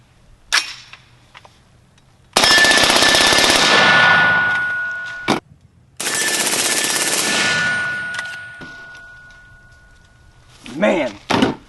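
AR-15 fitted with an Alamo-15 trigger and a suppressor, firing 62 grain green tip rounds in two long, loud strings of rapid shots, then a short burst at the end, with no talking.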